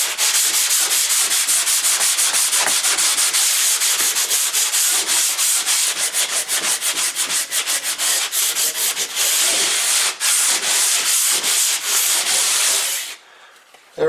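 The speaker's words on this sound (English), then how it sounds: "So now we're going to sand it and feather out all these edges so that we can get ready to texture it" Close, loud sanding of a drywall patch as its edges are feathered out: a continuous dry, gritty rubbing made of rapid back-and-forth strokes that runs without a break, then stops abruptly near the end.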